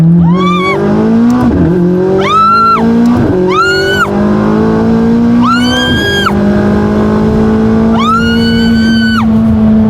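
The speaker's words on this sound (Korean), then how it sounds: "자연흡기는 정말 그 순수하게 높이 치솟는 그 사운드가 있거든요" A 15-year-old naturally aspirated supercar engine screams up through the revs again and again, each rising high-pitched wail cut off by a shift, loud and close.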